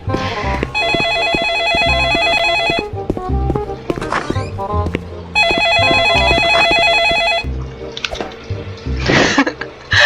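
Two bursts of a repeated electronic telephone ring inside a Roblox restaurant horror game, each lasting about two seconds with a pause between, set over game music and clatter.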